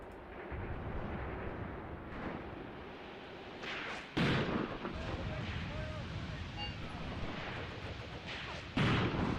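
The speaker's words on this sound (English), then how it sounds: "They should actually begin to call in mortars then as well." Mortar shells bursting on a battlefield in the tactical war game Graviteam Tactics: Mius Front, with two heavy thuds near 4 and 9 seconds over constant rumbling combat noise, while a person talks throughout.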